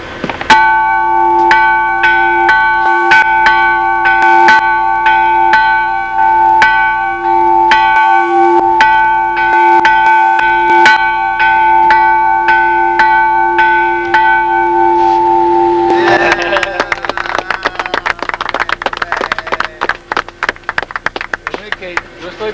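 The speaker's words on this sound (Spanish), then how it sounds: "ya tocó la campana" A church bell rings steadily with sustained, ringing tones for about fifteen seconds, loud and close, then gives way to a busier clattering stretch with louder strikes, accompanied by people talking.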